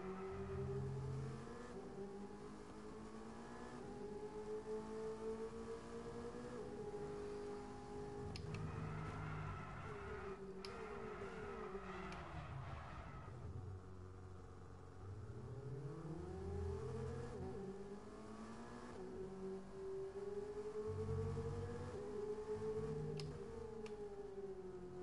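A Formula 1 race car drifts in the F1 22 video game, its engine note rising and falling in long sweeping revs that stay fairly faint and steady throughout with no talk.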